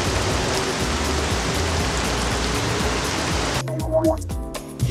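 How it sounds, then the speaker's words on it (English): Steady, dense rain from the GZDoom weather engine in a Doom-style game, a continuous loud hiss that suddenly gives way near the end to sparser, choppier patter with a few tonal blips. "Rain density can be controlled via the options menu. So you can slide it all the way to the left for really sparse rain."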